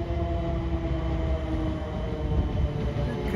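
A train sits at a railway station near St Margarets on a line toward Waterloo, giving a steady low rumble and hum with a faint high whine, without clear talk.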